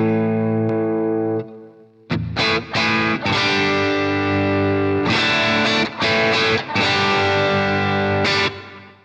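An electric guitar, a Les Paul, plays through a Great Eastern FX Co Design a Drive overdrive pedal, with gritty distorted notes and chords struck in short bursts. Each attack rings out loudly with brief silences between phrases, and no voice is heard.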